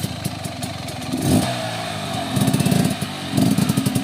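Dirt motorcycle engine revving hard in repeated bursts while the bike is stuck on rocks during a brutal off-road ride near Orehovo, loud and close, with clattering and uneven throttle pulses.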